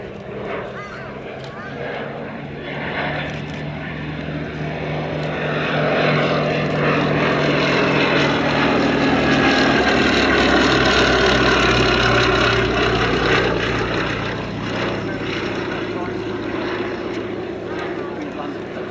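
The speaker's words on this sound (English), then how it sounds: "Now it is the Westland Lysander that we see, an aircraft that was developed for the Army cooperation role to replace the Hawker Hector" A Westland Lysander, a propeller-driven army cooperation monoplane, drones past during a flying display at Shuttleworth, its engine swelling louder toward the middle and fading away, with a commentator talking over it.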